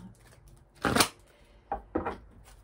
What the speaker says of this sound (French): on va tirer déjà une carte de mon oracle